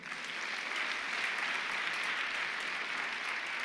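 A church congregation applauding to acclaim the Lord, a steady, even wash of many hands clapping at moderate distance, sustained throughout without voices standing out.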